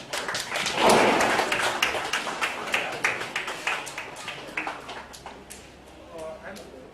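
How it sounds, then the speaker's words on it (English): Audience applause for a sister at a promotion event for the film Ishqedarriyaan: a burst of scattered, close hand claps that swells early and then thins into sparse claps, with voices murmuring underneath. "So round of applause for her, please"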